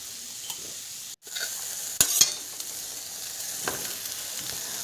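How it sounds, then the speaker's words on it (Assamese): Chicken meat frying in a pan with garlic and ginger paste, a steady crackling sizzle broken by a few sharp stirring clanks of a utensil against the pan. "তাৰপিছত আকৌ ভাজোঁ মাংসখিনি।"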